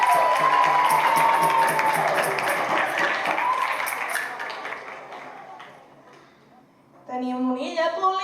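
Applause from a crowd at a local community contest event, loud at first and then fading away, with a voice and some music coming in near the end.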